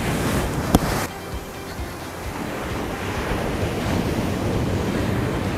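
Ocean waves breaking on Mazunte beach in Oaxaca, heard as a steady, loud rushing surf roar with wind buffeting the microphone throughout.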